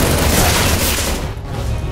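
Dense, continuous gunfire from the multiplayer shooter CS:GO, loud and close, forming an unbroken barrage that eases briefly before resuming.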